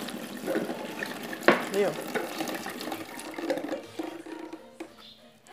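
A cup of water is poured into cake batter for an eggless, milk-free rain cake, a soft trickling splash near the microphone, while someone talks quietly over it.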